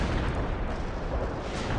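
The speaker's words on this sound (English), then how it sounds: "Artillery strike is inbound." Artillery strike explosions in the World in Conflict video game make a dense, low, rumbling roar that stays steady and loud for under two seconds with no distinct separate blasts.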